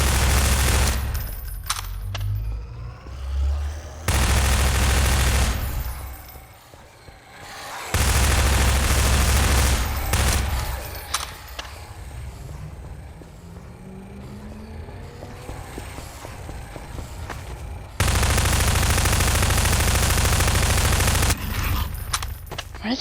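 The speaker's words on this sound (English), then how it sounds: "we've gone through about 300 bullets so far" Sustained automatic gunfire in Garry's Mod arrives in several long, loud bursts separated by quieter gaps, each barrage a dense, booming rattle.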